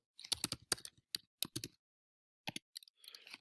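Quick bursts of clicky keystrokes on a computer keyboard, arriving in short irregular runs split by a brief pause, close and fairly quiet, with no voices.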